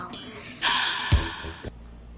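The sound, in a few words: gasp sound in a film score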